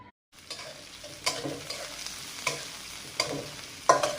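Green chilies and onions frying in oil, a light sizzle under repeated stirring strokes that scrape the pan roughly once a second, close and moderately quiet with no voices.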